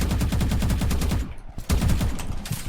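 Rapid automatic gunfire from a Roblox first-person shooter game, loud bursts of fast repeated shots with a brief pause midway before the firing resumes.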